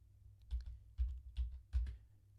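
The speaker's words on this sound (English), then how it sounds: "You should just be able to type in this first line" Typing on a computer keyboard in short close bursts, with a few soft clustered keystrokes at irregular spacing against a quiet background.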